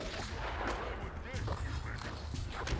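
Sniper fire in an original Xbox shooter: dense, continuous gunfire and battle noise fill the scene, with sharp reports standing out against a busy game soundscape while players talk over it.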